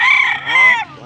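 A rooster at a poultry auction gives a single loud, close crow lasting about a second, with faint background noise beneath.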